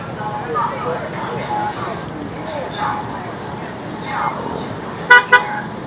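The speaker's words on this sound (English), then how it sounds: "That's all you hear, the occasional honk." Two short car horn toots near the end, over a quiet street in Beijing with faint background voices and distant traffic.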